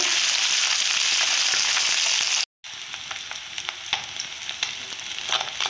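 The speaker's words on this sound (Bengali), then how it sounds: "মাছগুলো আমি ভালো করে ভেজে নেব" Puti fish sizzle in hot oil in a pan, a loud continuous crackling hiss that cuts out for a moment and then resumes more softly with scattered pops and spatters.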